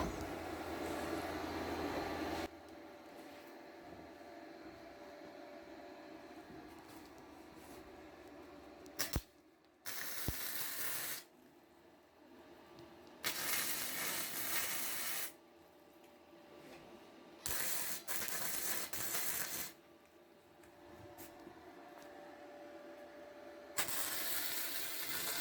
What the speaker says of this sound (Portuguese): A gente vai pontear para que depois a gente possa tirar isso fora e fazer uma solda bem firme.